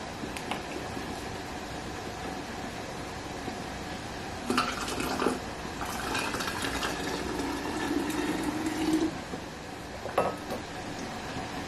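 Water pours in a few runs close by into hot glass canning jars, with a rising filling tone and light clinks of glass over a faint steady hum.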